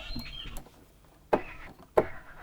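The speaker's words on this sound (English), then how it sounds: "These are all field recordings that I made earlier. So that's just bird song." Birdsong from an outdoor field recording: a few brief chirps early on, then two sharp, louder clicks or calls later against a quiet background.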